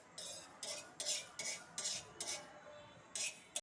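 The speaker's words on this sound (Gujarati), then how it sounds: "હું અત્યારે મેથી શેકું છું." Fenugreek seeds roast in a pan while a metal spoon stirs them, giving a series of sharp scraping clinks in an irregular rhythm, close and fairly quiet, with no talk.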